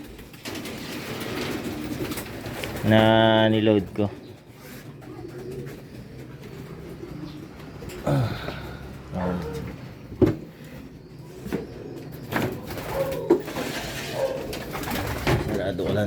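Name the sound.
birds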